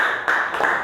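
Brief burst of clapping from students in a classroom, a short scatter of hand claps with no voices.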